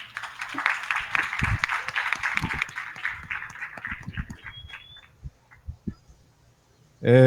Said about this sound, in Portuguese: Uma salva de palmas para o trabalho.